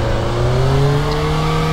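Old sprint car racing, its engine loud and close, revving with a smoothly climbing pitch as it accelerates, a continuous roar with no talk.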